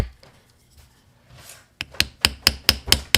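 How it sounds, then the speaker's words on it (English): A hammer strikes a rivet in a quick run of about seven sharp, evenly spaced metallic taps, close and clear after a soft rustle. "I'm gonna give that one last hammer"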